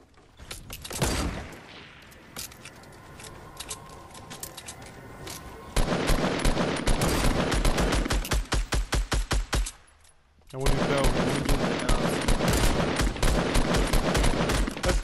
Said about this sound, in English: Man, they're shooting hard.